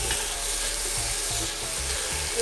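Potatoes fry in hot oil in a pan, giving a steady, close sizzle with soft, regular scrapes and knocks from stirring underneath.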